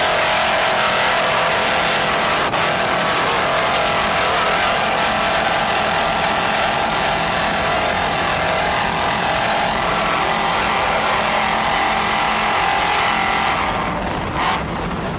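Racing powerboats with twin 400-horsepower United Racing engines and Mercury outdrives roar through a grand prix race, a loud, continuous, unbroken engine drone carried with wind and spray noise.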